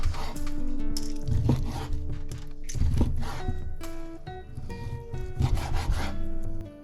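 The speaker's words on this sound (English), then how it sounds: "Then I'm going to cut in, pull back, and we're gonna cut little strips." A knife saws through raw chicken thigh on a cutting board, cutting it into strips. The rasping strokes come in repeated back-and-forth bursts, close and fairly loud, with no voice over them.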